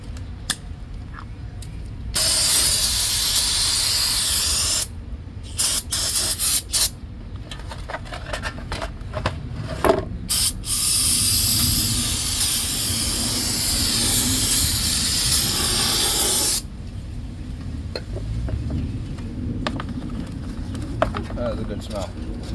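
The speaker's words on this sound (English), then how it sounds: "Next we got some brake cleaner here." Brake cleaner sprays onto automatic transmission parts of a Lexus ES300 in bursts of loud, broadband hiss, some short and some sustained, between quieter gaps with background shop noise.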